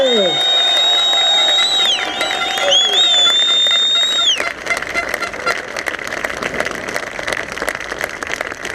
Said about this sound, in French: Donc chers supporters, d'applaudissements très forts pour Jacques et son équipe.